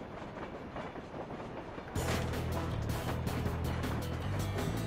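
A train in the Samurai Jack video game rumbles along with a steady, dense rolling noise that jumps louder partway through, continuous and close with rhythmic clatter.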